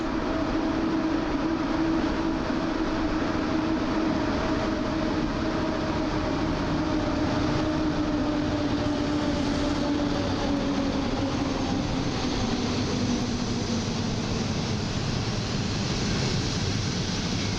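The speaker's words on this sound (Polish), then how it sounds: "TLK Kormoran z sygnałem zezwalający na odjazd" Loud, steady rumble of a TLK Kormoran passenger train departing Warszawa Zachodnia station close by, with a descending drawn-out tone and continuous wheel noise.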